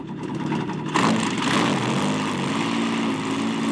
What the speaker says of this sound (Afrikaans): ek en Karel se propellertjies draai ewe vinnig